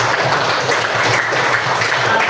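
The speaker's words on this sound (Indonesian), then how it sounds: "Beri tepuk tangan." A classroom of students gives a brief burst of dense, steady applause, close and filling the room throughout.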